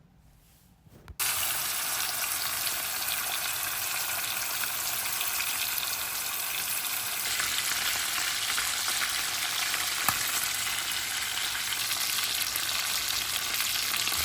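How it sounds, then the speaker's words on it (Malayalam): Chicken shallow frying in coconut oil in an uruli, a steady dense sizzle that starts abruptly after a brief quiet moment and continues evenly and close up, with no talking. "ഒരു ഉരുളി അടുപ്പത്ത് വെച്ച് അതിലേക്ക് ആവശ്യത്തിൻ്റെ വെളിച്ചെണ്ണ ഒഴിച്ചു കൊടുത്ത് നമുക്ക് ഈ ചിക്കന് രണ്ട് വശവും ഇങ്ങനെ തിരിച്ചു മറിച്ചിട്ട് കൊടുത്ത് ഷാലോ ഫ്രൈ ചെയ്യാം"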